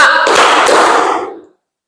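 A classroom of children claps together in a brief, loud burst, the dense clatter of many hands ringing for about a second and a half before stopping abruptly into silence.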